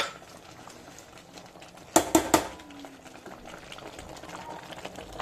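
Chicken gravy simmers in a pot on the stove with a low, steady bubbling, broken near the middle by three quick metallic clinks of a spoon against the pot; no one speaks.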